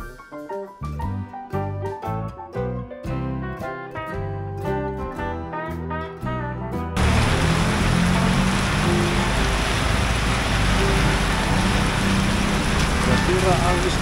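Rain pours onto a roof in a loud, steady, dense hiss that comes in abruptly after a stretch of music and keeps going without a break.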